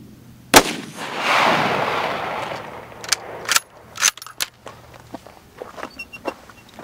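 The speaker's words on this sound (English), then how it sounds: "So, Rich is going to get ready here, and we'll get the next shot up." A rifle shot fired downrange at night: a sharp crack followed by a long rumbling roll, then scattered clicks, shuffling steps and knocks close by.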